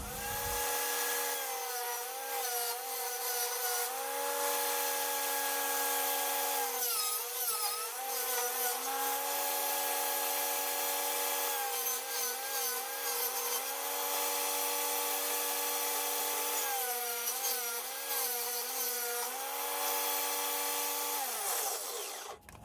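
Power saw ripping boards down to width for a raised garden bed, a loud steady whine running almost continuously and dipping in pitch several times as the blade bites into the wood.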